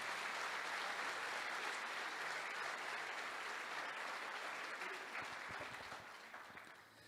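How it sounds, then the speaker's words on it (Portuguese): A church congregation bursts into strong, dense applause, a steady wash of clapping from many hands that holds evenly before tapering off near the end. "Então aplauda o Senhor e dê um aplauso forte."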